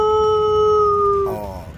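A herding dog on a farm gives a long, loud, sustained howl that holds a steady pitch and then breaks off, close by and with no talking.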